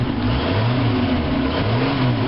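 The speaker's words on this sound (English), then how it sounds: "there you go, running. It's a 6-cylinder." Land Rover Series III long-wheelbase with a 2.6-litre six-cylinder engine, 36 years old and running a bit rough on choke, idles loudly up close with a steady low rumble and gentle rises in revs.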